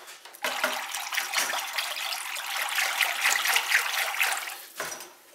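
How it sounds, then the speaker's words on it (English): Pottery glaze is stirred in a bucket, giving a steady wet sloshing and swishing with small splashes. The stirring runs continuously and close up, with a couple of brief knocks, and no one talks. "let's give the glaze a stir"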